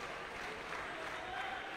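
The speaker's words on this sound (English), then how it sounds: "Round of applause from the crowd" A crowd applauds at a youth speed-climbing world championship qualification in Central Saanich, a faint, distant and steady wash of clapping.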